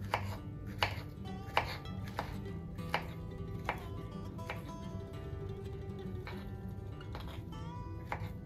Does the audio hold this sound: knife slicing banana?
yes